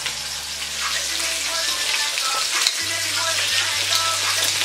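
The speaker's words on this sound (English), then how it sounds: "So now I'm just flipping the oxtails to the other side." Oxtails sear in a pot with a steady, close frying sizzle that holds evenly throughout, with a low hum running underneath and no talking.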